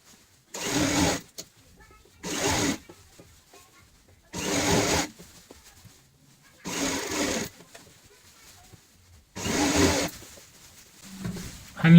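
A sewing machine stitches fabric around the round edge of a cover for a stool made from an old bucket, running in five short bursts of about a second each, separated by quiet pauses.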